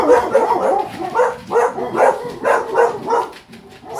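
Several dogs bark indoors in a run of loud, close, repeated bursts spaced about half a second apart, some of them yelping or whining, with no talk over them.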